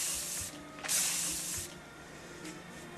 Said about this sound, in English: Her hair also is so clean that I'm going to put some more hairspray on it.